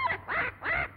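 A bird calls in a 1930s adventure film: three quick, harsh, quack-like calls in a row, close and fairly loud, with no talk over them.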